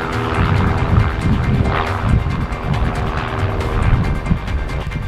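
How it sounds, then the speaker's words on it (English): Airplanes passing overhead outdoors, a broad, continuous engine drone that swells and fades gently throughout, with no talk. "These planes keep flying over us."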